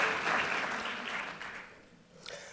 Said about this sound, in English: I'll start by applauding you, Wes, my new nephew